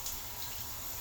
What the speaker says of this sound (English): the water pressure is very good on the ship